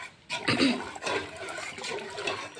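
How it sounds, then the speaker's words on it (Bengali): Yogurt stirred by hand to cool it, a wet swishing and sloshing of thick liquid in a container, repeated in short uneven strokes, close and fairly loud. "এরকম নেড়ে নেড়ে ঠান্ডা করতে হবে"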